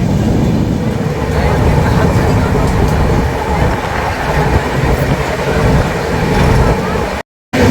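Indian passenger train running from NJP to Sealdah, a loud, continuous rumbling roar of the carriage in motion with faint rattling, cutting out briefly near the end.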